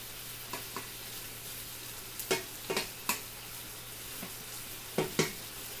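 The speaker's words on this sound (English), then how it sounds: "Let's give that a stir." Chicken sizzles faintly in a pan while a utensil stirs it, giving a few scattered scraping clicks over a soft, steady frying hiss with no voices.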